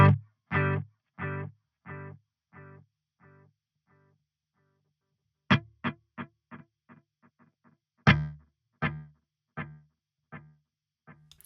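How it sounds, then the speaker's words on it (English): Clean electric guitar through a JST ToneForge plugin with only delay engaged: short plucked notes and chords, each followed by rhythmic repeating echoes that fade out, with brief gaps of near silence between phrases. "Let me turn off the reverb. This is just the delay."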